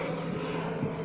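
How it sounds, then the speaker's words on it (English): An airplane drones overhead, a steady, broad engine rumble that holds even throughout with no voices. "there's a plane in the sky."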